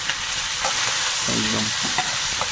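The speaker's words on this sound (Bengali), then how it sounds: "একটু কালো জিরে আর রসুন তেলে দিলাম" Nigella seeds and garlic sizzle steadily in hot oil in a village kitchen, a close, continuous frying hiss with a few soft stirring scrapes and a brief pan rattle midway.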